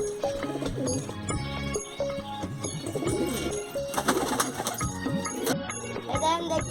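A flock of pigeons coos repeatedly at close range in soft overlapping throaty calls, with faint wing flutters and light background noise.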